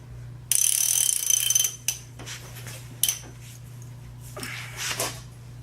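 A threaded fork being backed out of the drive shaft on a Honda VT600 motorcycle: metallic ratcheting and clinking in bursts, with a few sharp taps, close up over a steady low hum.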